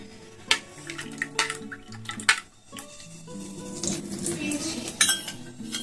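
Soaked yeast is added to warm milk and stirred in a bowl, with clinks of a spoon against dishes, light liquid sloshing and scattered kitchen knocks, close and fairly quiet with no talk.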